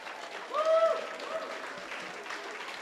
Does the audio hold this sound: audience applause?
yes